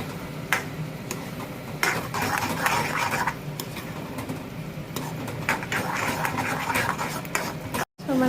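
A spoon stirs ridge gourd peel pickle in a bowl, making soft scraping and clinking sounds against the side in an uneven steady rhythm, close up and with no one talking.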